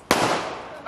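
Single pistol gunshot at shooting practice, a sharp close crack followed by a short decaying echo, loud and alone.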